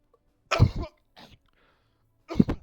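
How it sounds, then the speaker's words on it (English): A person coughs twice, each a short harsh burst, with a softer throat sound between them, close to the microphone. "Sorry, just a bit of coughing there."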